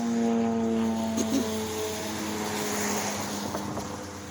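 Steady airplane drone passing overhead outdoors, a low sustained engine hum with tonal harmonics, moderately loud and continuous with no talking.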